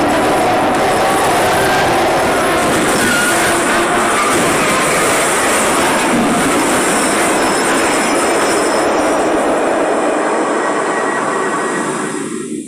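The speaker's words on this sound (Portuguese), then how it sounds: "o trem, ele perde completamente o controle" A runaway train in the Poppy Playtime Chapter 2 video game roars loudly with dense rumbling and rattling wheels, sustained throughout before cutting off abruptly near the end.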